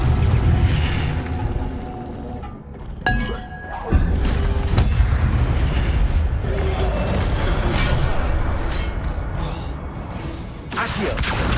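Fire spell effects from the Hogwarts Legacy video game crackle and burst repeatedly, with sharp impacts near 3 and 11 seconds over a dense, loud, continuous rush of game sound.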